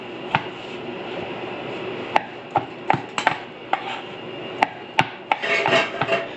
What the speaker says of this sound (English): I'm trying to cut against the grain.